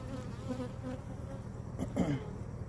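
Honey bees buzz steadily inside a hive as male drone bees hatch, a close, continuous droning hum with slight swells and no talk.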